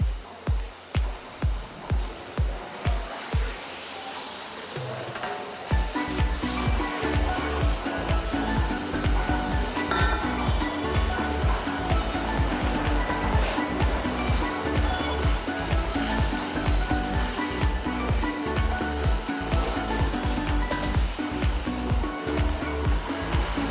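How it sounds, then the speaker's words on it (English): Onions and garlic frying in heated olive oil for Canary Island cilantro soup, a steady close sizzle and crackle throughout, with a few soft knocks of stirring near the start before the frying settles into a dense, even hiss. "We have added the onions once the olive oil has been heated, and then along with the onions we'll also add the garlic"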